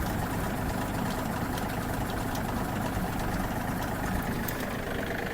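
A Yanmar US-324 mini tractor engine runs steadily in third gear, driving its cardan shaft and rotary blades with a loud, continuous mechanical drone and knocking rumble, no voices.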